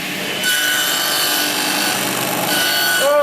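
A saw blade cuts through wood on a bevel sled for small parts, a steady, loud rasping whine that starts after a brief moment and holds for about two seconds before easing off.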